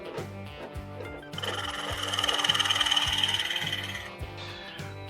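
A drill bores holes into hard oak barrel stave wood. A steady rhythmic mechanical thumping runs throughout, and a loud, close grinding whine joins partway and swells before easing off.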